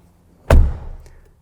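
A 2022 Ford Maverick pickup door shuts once with a solid, heavy thunk, close and loud, and the sound fades quickly into a short rattle-free decay.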